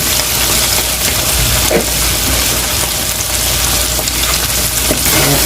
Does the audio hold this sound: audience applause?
no